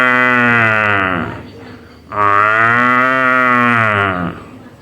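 A cow moos twice in long, loud, drawn-out calls separated by a short pause, close and clear with nothing else behind it.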